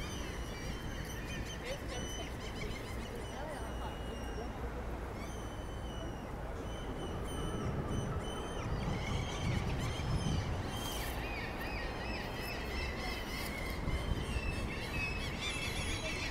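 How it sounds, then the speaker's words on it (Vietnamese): Seabirds call over and over with high squealing cries along a busy harbour waterfront in Bergen, Norway, in April. The cries sit over a steady crowd murmur and background bustle, and they grow slightly louder partway through. "Nghe chim biển nó kêu quá chừng luôn ha."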